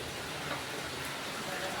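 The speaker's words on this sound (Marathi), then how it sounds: "पाऊस चालू झाला एकदम कडाक्यात" Heavy monsoon rain, the season's first, pours down in a dense, steady hiss that fills the whole stretch without pause.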